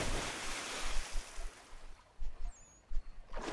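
Ocean surf from the Assassin's Creed III video game, a steady broadband wash of waves with low rumbling swells rising and falling throughout, moderately loud with wind-like hiss and no talk.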